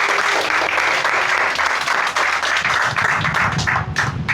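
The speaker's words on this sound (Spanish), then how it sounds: "Denle un aplauso a nuestro Dios" Church congregation applauding during a sermon, dense sustained clapping that stays loud and even throughout, with some faint voices mixed in near the end.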